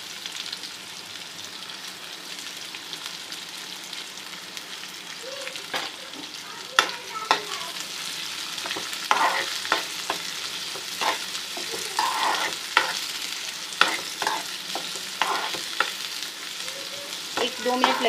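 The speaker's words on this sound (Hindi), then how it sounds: "जिसमें मैं डालना हूँ प्याज को भी हल्का सा फ्राई कर लेंगे।" Onions lightly frying in a pan for samosa chickpeas, a soft steady sizzle with occasional stirring scrapes and clicks, fairly quiet and without talk.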